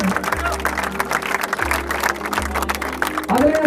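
Applause from a crowd at a prize-giving for an inter-state running race, steady clapping heard beneath an amplified announcer's voice speaking Hindi.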